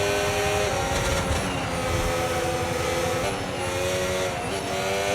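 F1 race car engines from the F1 25 game roar continuously during a sprint at Miami, a dense high-revving drone with shifting engine pitches from several cars close together, and no speech over it.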